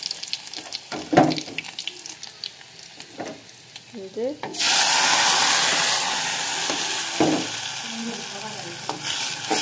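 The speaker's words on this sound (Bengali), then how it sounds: "এখন পেঁয়াজ কুচিটা দিয়ে দিচ্ছি, তেল প্রচুর গরম হয়ে গেছে কিন্তু" Chopped onions hit very hot oil in a home kitchen pan, setting off a sudden loud, steady sizzle midway that carries on to the end after a few quieter clinks and stirs.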